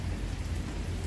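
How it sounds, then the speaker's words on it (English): Steady rain falls on a very rainy day, a dense, even wash of drops with low rumbling underneath, holding at one level throughout with no voices. "It's a very rainy day."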